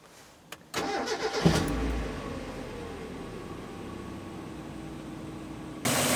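A turbocharged Mazda Miata engine cranks briefly, catches and settles into a steady idle close by, with a louder surge near the end.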